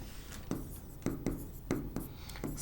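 Chalk or marker writing on a board during a Class 12 physics lesson, with several short scratchy strokes spaced about half a second apart, close and moderately loud with no talking.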